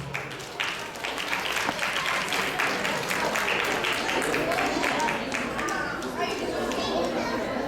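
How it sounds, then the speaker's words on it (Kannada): An event audience applauds as a choreography team is welcomed on stage, a sustained wash of clapping mixed with cheering and crowd chatter throughout. "ದೊಡ್ಡ ಚಪ್ಪಾಳೆಯೊಂದಿಗೆ ಅವ್ರನ್ನ ಸ್ವಾಗತಿಸಿ"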